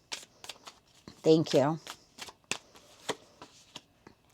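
Tarot cards riffle-shuffled in two quick bursts, close and crisp, between stretches of calm speech from a reader.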